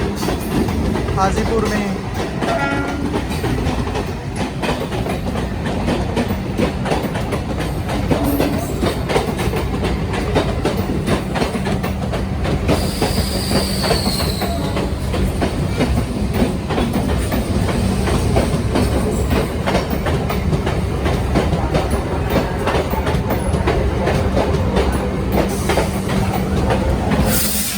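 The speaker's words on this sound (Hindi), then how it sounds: "यहाँ पे शायद एक और मेमू ट्रेन अराइव कर रही है" A MEMU train pulls into Hajipur station with a continuous heavy rumble, hiss and rhythmic wheel clatter close by, while someone talks over the noise throughout.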